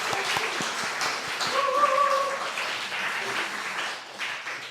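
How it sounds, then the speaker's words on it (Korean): A church congregation claps to welcome a visitor at a Korean Sunday service, giving a sustained patter of many hands that swells slightly in the middle and tapers at the end. "박수 한번 쳐주세요"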